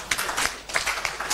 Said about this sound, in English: ITC, I think we need to clap for the minister.